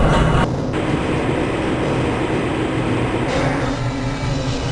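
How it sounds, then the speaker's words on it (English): A Black Mesa transit train moves along its track in the Half-Life video game, a loud, steady rumbling roll with rattling and a brief screech at the start, heard alone without speech. "This train is inbound from the Area 8 topside dormitories to the Central Transit Hub in Area 9."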